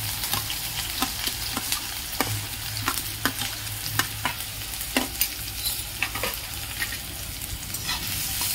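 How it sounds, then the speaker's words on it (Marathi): Three large chopped onions frying in hot oil with popped mustard seeds, stirred steadily for a Maharashtrian pithla; a constant close sizzle broken by regular sharp scrapes and clinks of the spoon against the pan. "कांदा छान ब्राऊन असा परतून घेऊ।"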